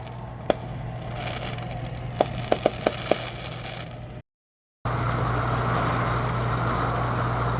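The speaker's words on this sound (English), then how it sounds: "Oh my God, those are big fireworks." Several sharp fireworks bangs crack out at a distance, one early and a quick cluster a little later, over a steady background hum.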